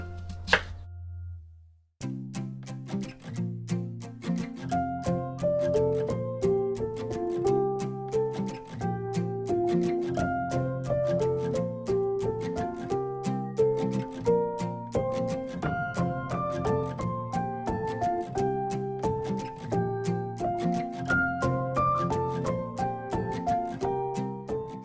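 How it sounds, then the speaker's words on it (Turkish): Steady, rapid knife chopping of onions on a board, repeated sharp taps over continuous background music. "soğanlarımızı da doğradık."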